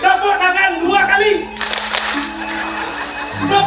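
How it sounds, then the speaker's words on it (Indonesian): An audience at a Balinese drama gong stage performance breaks into a burst of clapping lasting nearly two seconds, following a stretch of talk and amplified voices. "Tepuk tangan 2 kali."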